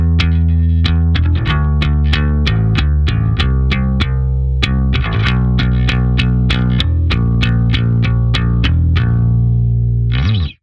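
Bass guitar plays the descending walk-down line from a song, a steady run of distinct plucked notes with effected, slightly distorted tone, loud and alone, ending abruptly.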